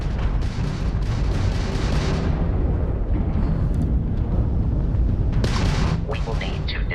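Spaceship weapons fire during a space battle against a Crimson Fleet ship in the game Starfield: heavy booming, crackling blasts and rumbling bursts pile up continuously, with a sharp flurry of shots near the end.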